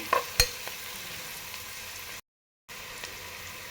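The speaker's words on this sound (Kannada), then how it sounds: "ಈರುಳ್ಳಿ ಸ್ವಲ್ಪ ಫ್ರೈ ಆಗೋವರೆಗೂ ಒಂದು ಸ್ವಲ್ಪ ಫ್ರೈ ಮಾಡ್ಕೊಳ್ಳಿ" Chopped onion with curry leaves sizzles steadily in a pan for a cauliflower stir-fry, with a couple of sharp utensil clicks near the start and a brief dead-silent gap partway through.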